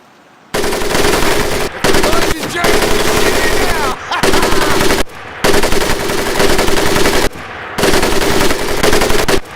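A crew-operated weapon in Medal of Honor: Pacific Assault fires long, loud, close bursts of rapid automatic shots, broken by brief pauses, in four or five sustained strings.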